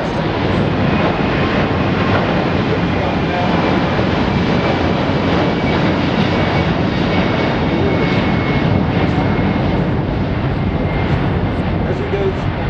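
The jet engines of an Airbus A380 airliner roar continuously at the Farnborough airshow, a loud, steady, broad rumble with a live commentator speaking over it.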